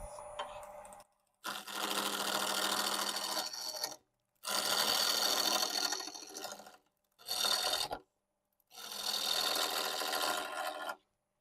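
A wood lathe spins a piece being turned into a soccer ball while a half-inch bowl gouge shears it in four separate scraping bursts of a couple of seconds each, with short quiet pauses between them.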